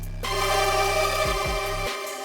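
Dark trap sample shortened into a one-shot, a loud sustained tonal layer with deep low notes that shift near the end, playing alone with no voices.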